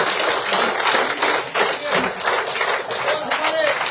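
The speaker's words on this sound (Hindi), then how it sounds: "जोरदार तालियों से" Loud applause from a crowd welcoming new members at a party joining event, dense steady clapping that swells and dips over a few seconds, with voices faintly mixed in.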